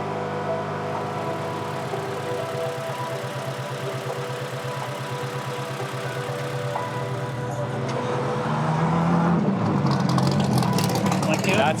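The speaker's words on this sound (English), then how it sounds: "That's called a Viper competition coupe" A Viper competition coupe race car engine runs loud and close, with a steady rumbling idle that swells into heavier revving near the end, with voices talking over it.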